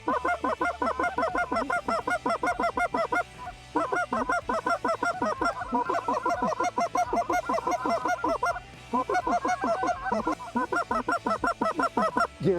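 A large flock of geese honks continuously, loud and close, in dense overlapping calls with brief pauses, during a goose hunt over the fields of the Klamath area.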